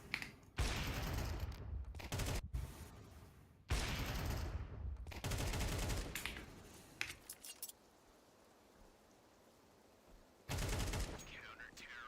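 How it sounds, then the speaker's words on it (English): Grenades and molotovs burst in a Counter-Strike match as sharp bursts of gunfire and explosive pops arrive in loud clusters, broken by quieter gaps, with a caster talking over the action. "Mollies and nades coming in."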